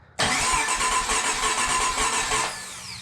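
A 7.0 L (427 cu in) LSX V8 on a fresh engine build cranks over loudly and steadily for about two seconds with a dense mechanical whir, then winds down; no talking.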